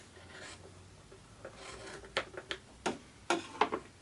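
Scissors cut into quilted fabric for a book cover, a quiet sequence of short snipping and rustling strokes that grow more distinct toward the end.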